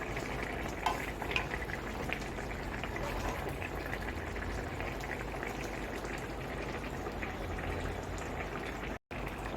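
Curry cooking in a pan with tulsi leaves, a soft continuous sizzle and bubbling at moderate distance, fairly faint and steady, with no speech.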